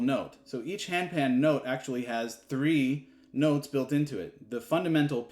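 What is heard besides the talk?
No everyday noises stand out.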